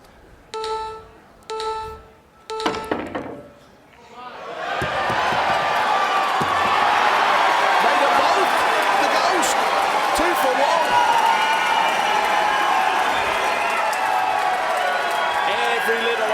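An American crowd at a Mosconi Cup pool match bursts into loud cheering and applause after a few sharp ball and table knocks, with the roar building and holding strongly throughout.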